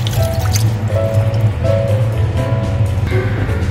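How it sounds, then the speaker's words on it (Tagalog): Coconut milk poured into a pot of yellowfin tuna for ginataang isda, a loud close liquid gush with dripping and bubbling, continuous throughout. "Ngayon, ilalagay natin yung gata. Yan, buhos lang natin yan."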